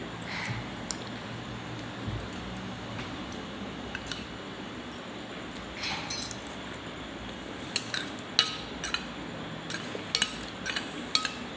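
A spoon clinks against a dish while someone eats freshly made green jowar gatka, with sparse light metallic taps and clicks, several quick pairs, over a quiet room hiss.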